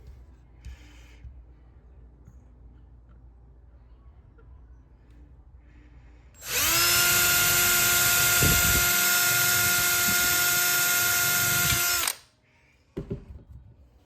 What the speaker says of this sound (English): I already drilled one of the holes there, and now going for the second one.